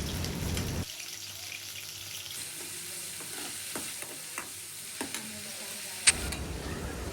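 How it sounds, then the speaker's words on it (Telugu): Small chicken pieces frying in hot oil in a pan for chicken fried rice, a soft steady sizzle close by with occasional stirring taps and scrapes, ending in a louder burst of hissing. "ముక్కలు వేసుకొని బాగా ఫ్రై చేసుకోవాలి."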